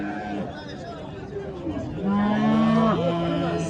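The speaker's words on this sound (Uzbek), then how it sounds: "Akalar, ona bola sigirlardan serob chiqqan." Cows moo loudly, one long low call standing out, over a busy hubbub of people chattering at a crowded livestock market in Olot, Uzbekistan, with cows and calves for sale.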